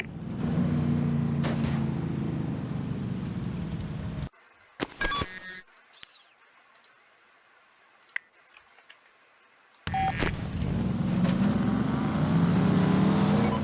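A car driven in Mercenaries 2 hums with a steady engine drone. The drone cuts out suddenly into near silence broken by a few clicks and ticks, then resumes strongly and swells louder.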